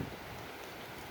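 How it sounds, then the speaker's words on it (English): Heavy rain pours down steadily during a storm, a faint, even hiss of falling water lasting about a second. "Oh, pouring down rain again."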